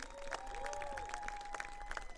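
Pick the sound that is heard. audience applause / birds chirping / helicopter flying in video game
audience applause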